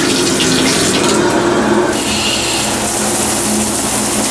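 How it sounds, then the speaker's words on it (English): Hot water pours from a worn, slightly leaky shower head in a Red Roof Plus hotel bathroom in St. Louis, a loud, continuous close-up rush of spray with no voices. "The shower head's not in the greatest shape, but pressure's still good and it's hot."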